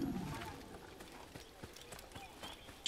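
Horse hooves clip-clop in Assassin's Creed, with a run of light, evenly spaced hoof strikes at moderate distance and a voice talking at the start.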